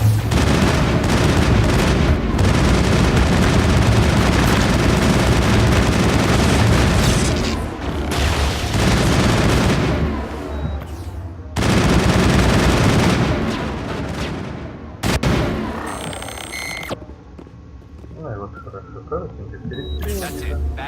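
Heavy firefight in the Mass Effect video game, with sustained booming gunfire and explosions for long stretches, brief lulls between volleys, then trailing off into quieter sounds near the end.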